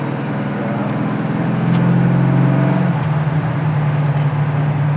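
A 1972 Plymouth Cuda drives down the road, its engine a steady, fairly loud drone that rises slightly and then drops in pitch around the midpoint as the transmission shifts, settling into a lower steady hum.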